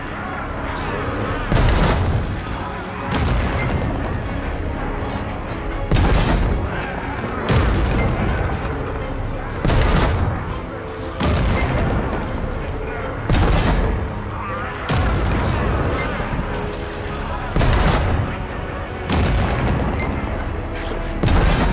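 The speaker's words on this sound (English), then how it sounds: "Use the cannons and defend the battlements!" Heavy cannons defending battlements in the video game Lost Ark fire booming shots at a steady pace, one every two to three seconds, over a dense, constant battle din.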